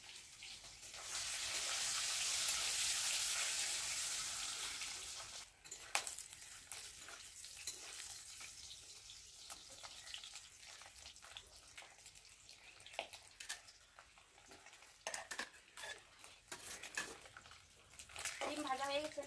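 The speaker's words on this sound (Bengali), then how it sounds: "ডিম ভাজা হয়ে গেছে, নামিয়ে নিচ্ছি।" Eggs fry in a pan on a clay stove with a loud sizzle at first that fades, followed by scraping and stirring clatter while a person talks.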